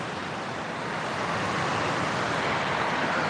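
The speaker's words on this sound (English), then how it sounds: "There's the ocean there." Steady ocean surf near a coastal campsite gives a broad, continuous wash of noise that swells slightly louder partway through, with no voices.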